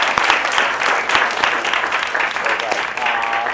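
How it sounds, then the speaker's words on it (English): A comedy-show audience applauds loudly and continuously in a packed room, dense clapping with some crowd noise mixed in, under the comedian's voice. "Another round of applause for my illustrious director."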